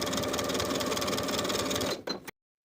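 Sewing machine stitching a basting seam to hold a pocket on athletic shorts, a fast, close, rhythmic mechanical chatter that runs steadily for about two seconds, then sputters and stops abruptly.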